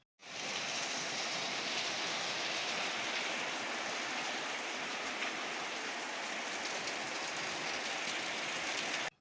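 Steady, dense hiss of heavy rain pouring down without pause, loud and close, with no voices.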